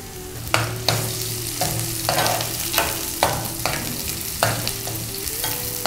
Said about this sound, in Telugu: ఆనియన్స్ వేసేద్దామా. కొంచెం పచ్చిమిర్చి వేద్దాం.